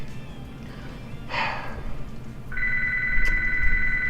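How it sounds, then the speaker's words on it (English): A room telephone starts ringing partway through, giving a steady electronic tone that holds on after a short breathy sound. It rings alone with no talking. "and that's the phone."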